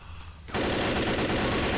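Sustained rapid automatic gunfire in Left 4 Dead erupts after a half-second of quieter game ambience, a loud, dense, continuous rattle with no voices over it.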